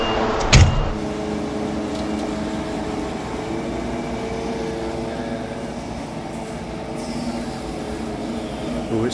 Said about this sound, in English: This truck I've got here that's coming in is the truck I sandblasted.